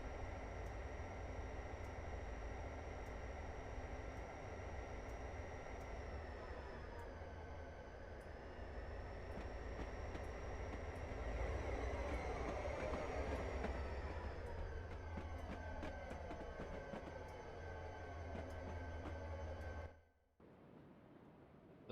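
Freight train rolling on rails in Train Simulator 2020 on the Peace River route, with a steady loud rumble and drone, shifting pitch midway, then cutting off abruptly near the end.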